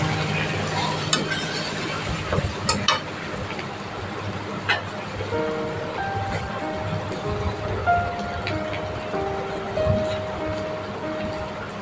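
Salt stirred into a rohu fish curry with raw mango in a cooking pan: soft scraping and stirring over a steady low hiss, with a few light clinks, moderately close.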